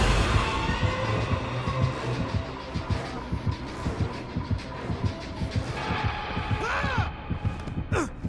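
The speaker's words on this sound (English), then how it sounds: "For the survivors, they need to listen to their heartbeat that increases in volume the closer the killer gets" Survivor heartbeat from the horror game Dead by Daylight, a deep, steady double-thump throb pulsing through about eight seconds of low humming ambience, loud and close with no talk.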